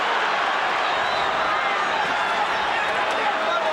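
A large boxing arena crowd roars and cheers in a steady, sustained wash of noise, with a commentator's voice running over it during a 1997 pound-for-pound bout.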